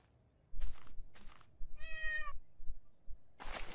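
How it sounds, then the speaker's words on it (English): A cat in the Minecraft game meows once, a clear, tonal in-game call set between bursts of other game noise and soft clicks, fairly close and moderately loud. "now there's a cat being annoying"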